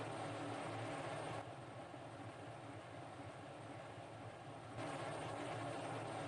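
An F-16 jet engine spools up during start in the Falcon BMS flight simulator, a steady loud turbine roar and whine that dips slightly mid-clip and then swells again, with no talking.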